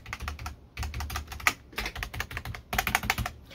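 Typing on a cheap $20 non-mechanical computer keyboard, with quick, soft clacking keystrokes in irregular bursts and short pauses, close up and alone.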